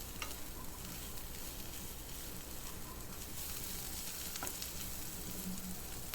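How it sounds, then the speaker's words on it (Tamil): Ginger and crushed green chillies tempering in hot oil in a pan for masala sundal, a steady close sizzle and fry with faint stirring scrapes throughout. "இது எல்லாத்தையும் நம்ம இப்போது தாளிச்சிக்கலாம்."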